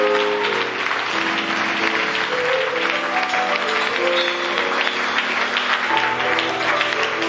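A church congregation applauds loudly and continuously, a dense, close wash of clapping from many hands throughout, with musical tones and voices faintly underneath.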